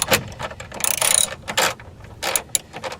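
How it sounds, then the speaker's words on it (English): A ratchet wrench loosening the bolt on a truck battery hold-down bracket, with close, loud bursts of rapid clicking in several separate strokes. "this little piece here actually just comes straight out once you unbolt this"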